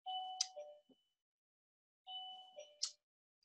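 A doorbell rings twice, each a two-tone chime about two seconds apart, fairly faint with silence between.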